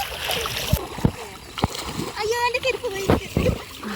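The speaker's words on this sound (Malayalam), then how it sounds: "ഞങ്ങൾ വെള്ളത്തിൽ കൂടെ അതിസാഹസികമായി നടന്നുകൊണ്ടിരിക്കുകയാണ്." People wading on foot through shallow water among weeds, with several sharp splashes at irregular intervals, close by and mixed with people talking.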